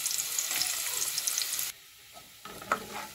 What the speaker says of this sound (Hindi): इसमें मैंने 2 टेबलस्पून ऑयल डाल लिया है, और अब इसमें मैं लहसुन डालती हूँ